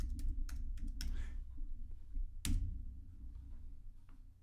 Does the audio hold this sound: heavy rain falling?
no